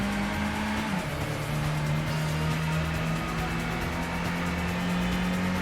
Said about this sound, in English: Accelerating up the hill.